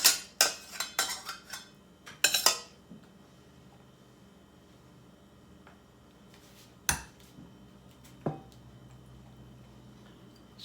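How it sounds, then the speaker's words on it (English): Cranberry sauce stirred in a pot, a quick cluster of spoon clanks and scrapes against the metal at the start, then quiet with a few isolated clinks later. "Stir that around."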